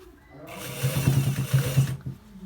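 A sewing machine stitches the end part of a designer shirt with buttons in a steady, rapid mechanical whir that runs about a second and a half, close and fairly quiet.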